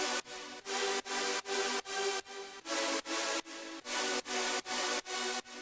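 Layered super saw synth chords in a future bass or chill pop style with the low end cut away, struck in a steady rhythm of about a dozen bright, wide, loud stabs with short gaps between them, no voices.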